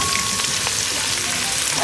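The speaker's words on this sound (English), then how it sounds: "This is the onion, I'm frying it." Dense, constant crackling sizzle of onion frying in oil, close and loud, with faint clicks scattered through it.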